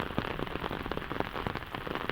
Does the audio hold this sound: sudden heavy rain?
yes